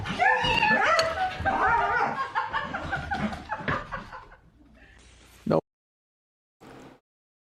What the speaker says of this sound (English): No mistaking the joyful sounds of a happy dog and an owner over the moon for the return of her owner from a literal trip around the moon